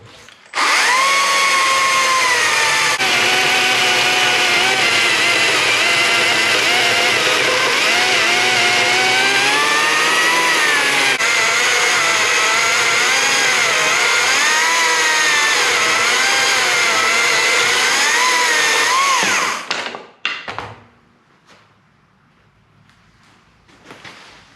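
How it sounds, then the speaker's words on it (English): A Stihl MSA 140 C-B cordless chainsaw cuts through a large piece of timber, its loud, continuous, strained motor whine holding for about twenty seconds before it cuts off and winds down. "That is a seriously big piece of timber for a saw that's just not designed to go through that"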